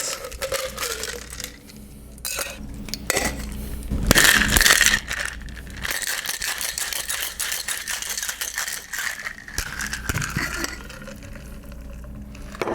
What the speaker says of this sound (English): let's go ahead and hit it with some ice.